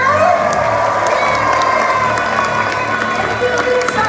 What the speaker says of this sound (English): if you guys agree not to do this, we'll give it a very big cheer